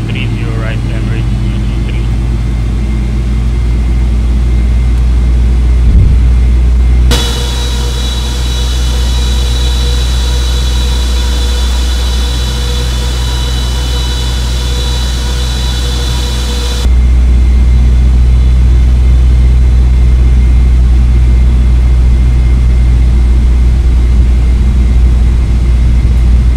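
Emirates airliner jet engines spooling up for takeoff from runway 30 right in X-Plane 11, a steady loud roar with whining high tones that swell mid-clip, while a voice talks over it.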